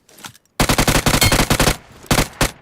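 Rapid automatic gunfire in a video game, a loud sustained burst of machine-gun fire followed by two shorter bursts after a brief pause, with faint sounds before the shooting.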